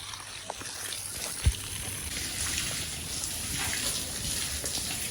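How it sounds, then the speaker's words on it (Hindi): A light shower of water sprayed over birds on a hot day, a steady soft hiss of fine droplets with faint patter and a single sharp knock partway through, continuous and moderately close. "जो भी बर्ड्स हैं उनको भी हल्का हल्का शॉवर कर देता हूँ ताकि उनका भी जो टेम्परेचर है डाउन जाए"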